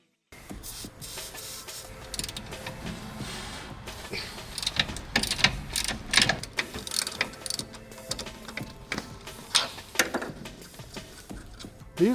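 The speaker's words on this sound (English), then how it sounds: "Those brackets that hold the booster are bolted underneath, so I've got to get underneath there and take some of these bolts out." Ratchet wrench working bolts loose from brake booster brackets underneath a car in a garage, continuous clicking ratchet strokes with clanks and handling noise, moderately faint and close.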